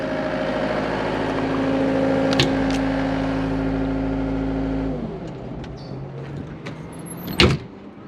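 A 2013 John Deere 329E skid steer with an 85 hp engine idles with a steady droning hum, then shuts off about five seconds in, followed by faint clicks and a sharp door-like clunk.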